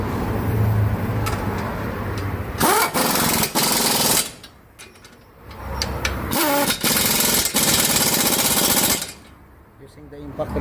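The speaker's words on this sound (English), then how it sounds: "Using the impact wrench, it's very easy to lock the then punch here also for the locking system" A pneumatic impact wrench works on a bolt at a car's CV joint, firing in loud hammering bursts separated by short pauses, each burst cutting off abruptly.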